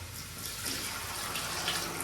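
Water poured onto hot sauna stones, a steady broadband hiss and sizzle heard up close, continuous and fairly quiet with no voices.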